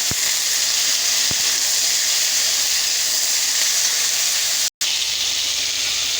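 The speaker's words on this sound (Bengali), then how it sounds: "ভালো করে ভেজে নেব।" Drumstick stalks fry in a pan with salt and turmeric, giving a dense, even hiss and sizzle. It holds steady and fairly loud throughout, broken by one brief cut near the end, with no voices.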